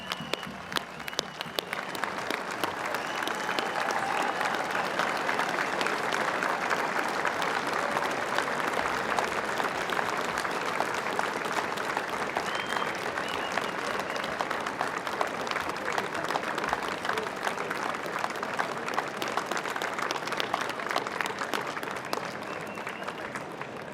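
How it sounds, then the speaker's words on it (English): Sustained applause from a large ceremony crowd honoring FDNY medal winners, dense steady clapping that holds at even loudness throughout, with no voices rising above it. "Let's give them a round of applause, all our medal winners"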